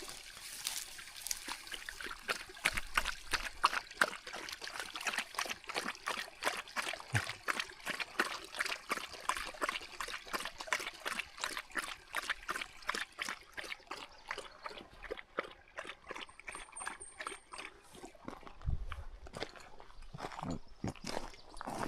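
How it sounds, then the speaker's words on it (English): A small brook trickles steadily downstream, its clear water making a continuous, close, bubbling patter of tiny splashes with no voices. "The brook runs down. Water looks pretty clear."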